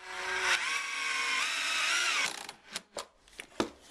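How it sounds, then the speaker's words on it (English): A power driver spins a turbo screw into timber, whining steadily and loudly for about two and a half seconds before tapering into several short bursts as the screw countersinks itself. "Put it into the timber, put your driver onto it."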